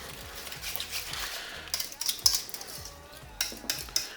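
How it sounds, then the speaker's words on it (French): Quiche filling with salt, pepper and nutmeg being mixed in a bowl, heard as quick irregular clinks and scrapes of a utensil against the bowl, close and fairly quiet, with brief pauses between bursts of stirring. "Je vais bien mélanger."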